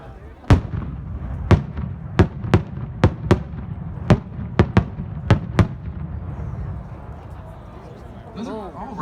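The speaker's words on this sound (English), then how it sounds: "It's a ball shell with sequentially timed reports and a large finale of reports." A 12-inch firework ball shell sets off a sequence of sharp, loud reports, about ten bangs spaced irregularly over several seconds at a daylight show, with crowd murmur and talk underneath.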